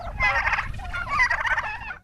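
Turkeys on a farm flock of about 600 birds gobble loudly and close, two rapid warbling gobble bursts in quick succession with no talking.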